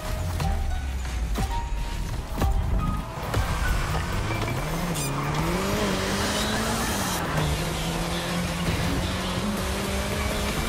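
An old Mini Cooper races in The Crew Motorfest, its engine buzzing and rising and falling in pitch as it accelerates, with sharp clicks and impacts early on, loud and continuous without speech.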